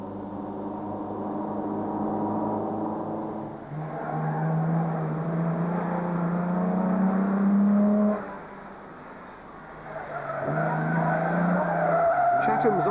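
Sunbeam Rapier rally car driving on a mountain stage of a 1980s classic car rally, its engine droning steadily, briefly dropping away and then returning with rising revs.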